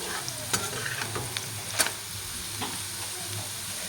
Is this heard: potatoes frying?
yes